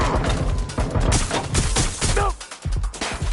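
Heavy gunfire in a PS4 shooter game, dense bursts of shots and crashing impacts packed tightly together, loud and close with a brief lull before the firing resumes.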